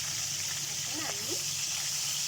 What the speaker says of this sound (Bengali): 2 মিনিটের জন্য টমেটোগুলো ভেজে নিচ্ছি।